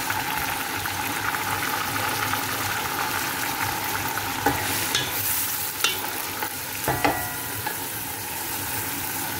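Chopped tomatoes sizzle and fry in a pan over onions, a steady close crackle with a few sharp clicks of a utensil stirring against the pan.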